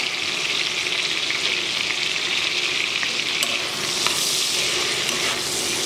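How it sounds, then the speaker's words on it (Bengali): Peeled potato chunks frying in a pan with turmeric and salt while being stirred: a loud, continuous close sizzle with occasional scrapes of the spoon and no voices. "আর আলুটাকেও আমি খুব ভালো করে ভেজে নিচ্ছি।"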